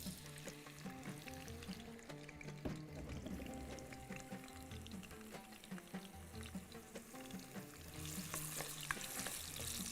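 Potatoes fry in a pan, a steady close crackling sizzle with occasional clinks and stirring scrapes, growing slightly louder toward the end, with no talking.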